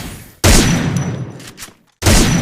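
Rapid automatic gunfire from the Free Fire video game training ground, two loud sustained bursts separated by a brief pause, close and dense with no talking.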